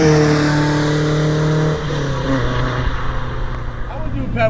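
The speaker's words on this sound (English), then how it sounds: "by modern standards, not exactly fast, but it makes a great sound doing it" A 1974 Alfa Romeo GTV 2000 engine pulls steadily under acceleration, its droning note shifting partway through as it climbs again, loud and close throughout with no talk.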